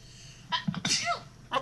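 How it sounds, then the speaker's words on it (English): A single close sneeze with a sharp burst, followed by brief voices reacting and then a short breathy sound. "Achoo! Bless you. Bless you."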